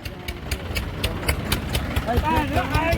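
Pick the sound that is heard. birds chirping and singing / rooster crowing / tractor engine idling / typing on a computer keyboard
tractor engine idling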